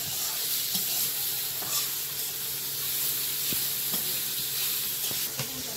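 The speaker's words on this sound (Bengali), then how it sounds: "কড়াই একটু তেল দিয়ে একটু 5 ফোড়ন, তেজপাতা, এতে আমগুলো দেবো" Panch phoron spices and bay leaf sizzling in hot oil in a wok, a steady bright hiss with a few sharp pops and light stirring clicks, close and continuous without speech.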